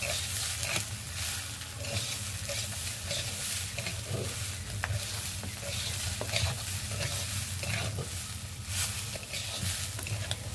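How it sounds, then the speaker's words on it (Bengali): Rice and lentils fry in a pot for khichuri, making a dense, steady sizzle with a constant low rumble and continuous stirring scrapes throughout, close and fairly loud. "আমাদের এইবার চাল ডালটা ভাজা হয়ে গিয়েছে"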